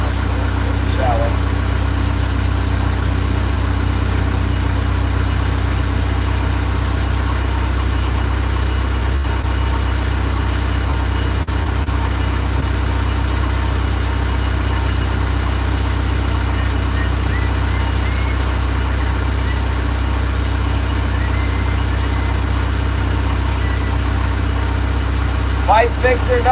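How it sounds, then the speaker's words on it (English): Steady, loud engine drone of a commercial inshore salmon fishing boat, running continuously with a heavy low rumble and constant vibration throughout, with no break or change in pace. "No, it's just a loud boat."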